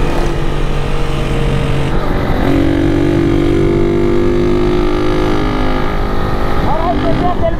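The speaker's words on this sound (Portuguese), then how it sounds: "tem algum parafuso dentro do escapamento" Motorcycle with a loose screw rattling inside its exhaust, a loud continuous engine drone with shifting tones and a buzzy metallic clatter, with people talking over it throughout.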